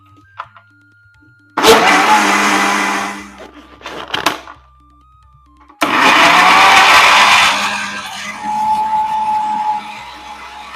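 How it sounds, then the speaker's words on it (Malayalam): A blender whirs while blending an avocado milkshake, running in two loud bursts of several seconds each, separated by a short pause with clatter. "ഇനി ഒന്നും കൂടെ നമുക്കിത് ബ്ലെൻഡ് ചെയ്യാം"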